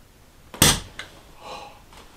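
A cork pops out with a single sharp pop at a New Year's celebration, followed by a brief fizzy hiss fading away; fairly quiet room with no talking.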